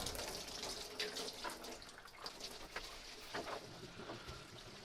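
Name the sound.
coolant draining from Mini One engine bottom hose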